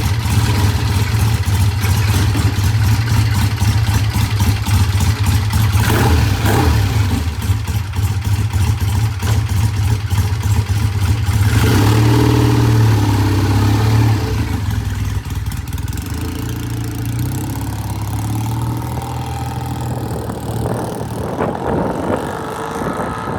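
A freshly built vintage British motorcycle engine runs steadily on a test ride, a loud continuous low throb with clattering mechanical detail that eases slightly in level partway through.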